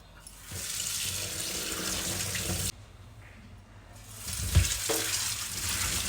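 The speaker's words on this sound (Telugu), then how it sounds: "ఇట్లా బాగా పిసుకుతూ కడుక్కోవాలండి ఇలా కడుక్కోవాలి బాగా" Ridge gourd peels being washed by hand in a tub of water: steady splashing and running-water noise, broken by a brief quiet gap and then resuming, close and moderately loud with no talking.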